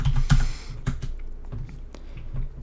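Typing on a computer keyboard at a Windows command prompt gives a short run of close, crisp key clicks, a few quick taps followed by scattered, softer presses.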